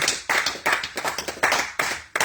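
Congregation at a French-language night of prayer clapping hard and fast in praise of the Lord, a dense, roomy mass of hand claps in uneven bursts with no audible voices.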